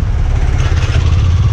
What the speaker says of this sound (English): So let me just quickly start this bike